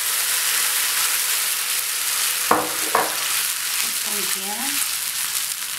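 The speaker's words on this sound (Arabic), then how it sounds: "دابا غادي نديرو باش نطيبو داك الجاج" Chicken pieces frying in hot oil for a traditional Moroccan chicken tagine with parsley and eggs, a steady close sizzle with a couple of sharp stirring scrapes, under a brief word of talk.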